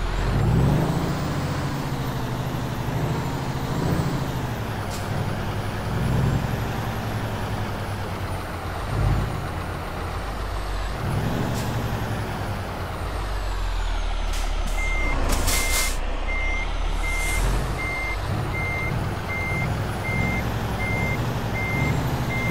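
A truck in American Truck Simulator idles and rumbles loudly at close range while its reversing beeper sounds in a steady repeating pattern near the end, with a hiss of air brakes in between.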